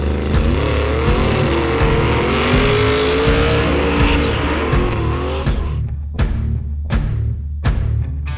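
Modified 1500hp Holden Ute street car engine, loud and close, holding a rough high-revving drone, then snapping through three sharp throttle blips with short pauses between them.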